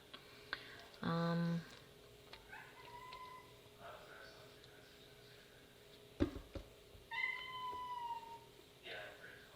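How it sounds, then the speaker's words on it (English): A cat indoors meows repeatedly from about ten feet away, several distinct drawn-out cries spaced apart with faint clicks and kitchen noises between them, fairly quiet overall. "My poor cat is crying at me."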